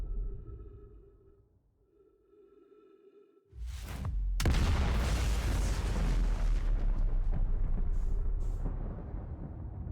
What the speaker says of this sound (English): A new Big Bang happens, creating a brand new universe.